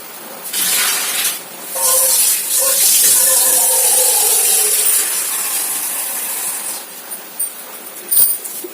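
Tap water runs steadily and splashes while something is rinsed clean, a loud close hiss with brief breaks and surges, and faint talk beneath it.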